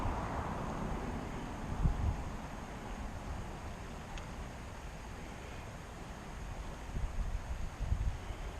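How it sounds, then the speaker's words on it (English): Wind gusting through trees high up in the woods, a steady, low rushing roar with faint buffeting against the microphone, swelling slightly in gusts near the end. "it's pretty windy up there"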